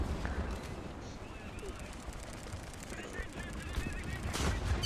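Gunfire from a video game gun rattles steadily throughout, dense and fairly loud, with voices talking over the shooting.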